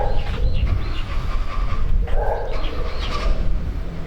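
A couple of dogs bark now and then somewhere off at a distance outdoors, their yelps set against a steady rumble of background noise.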